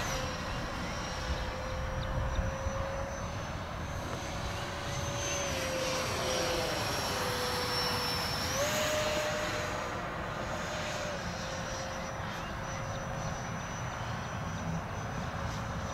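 An FF-117 electric ducted fan model jet flies overhead with a steady high whine that dips and rises in pitch as it passes and turns, set over a constant outdoor wash of wind noise.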